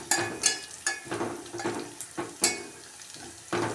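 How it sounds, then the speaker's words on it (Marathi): Crushed garlic fries in a pan over medium heat with soft sizzling, broken by several sharp scraping and stirring knocks of a utensil against the pan, and no talk. "इथे बघा लसूण छान असं भाजून घ्यायचं आहे."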